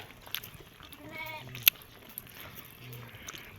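Goats on a farm bleat several times in quick succession while being dosed with medicine and marked, the cries moderately quiet with a short sharp clatter in between.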